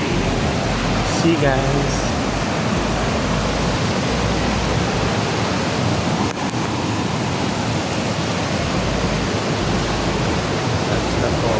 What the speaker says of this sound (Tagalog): That's the falls.